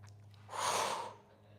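A single long exhale through the mouth during a Pilates abdominal lift on a mat, a close, breathy rush of air that swells and fades over about half a second.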